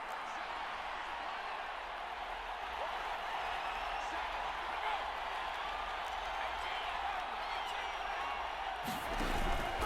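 A stadium crowd in the Madden 23 football video game cheers in a broad, steady roar, loud and sustained across the whole stretch, swelling slightly near the end.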